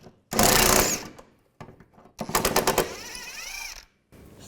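A socket wrench works a bolt loose on a 1997-2001 Honda CR-V rear suspension, with quick bursts of rapid ratcheting clicks close by and short gaps of handling noise between them.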